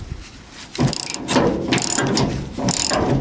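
A hand ratchet breaks loose carriage bolts on a 1977 Chevrolet C10 truck, with quick bursts of loud, close clicking separated by brief pauses.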